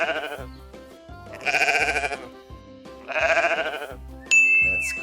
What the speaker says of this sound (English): That's correct. That's the sound of a sheep.